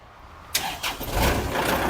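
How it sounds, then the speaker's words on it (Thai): A Kubota L5018SP tractor's diesel engine cranks with an abrupt burst, catches, and settles into a steady, close running clatter. "เครื่องสตาร์ทติดง่ายนะครับ เสียงเครื่องปกตินะครับ"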